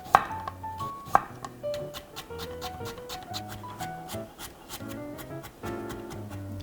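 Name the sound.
knife finely chopping vegetables for omelette rice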